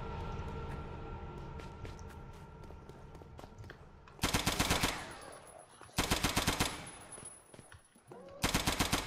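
An MP-40 submachine gun fires in the Roblox video game, close and loud, in several rapid full-auto bursts separated by short pauses, after a stretch of quieter background game sounds.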